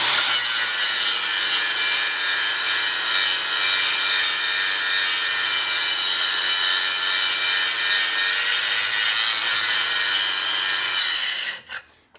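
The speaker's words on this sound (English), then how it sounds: "Even though you can hear the grinder working, it's just simply that, you know, it bites so hard." A 3M Cubitron grinding wheel grinding regular steel, a steady, loud, harsh abrasive hiss held close and continuous for about eleven seconds before cutting off.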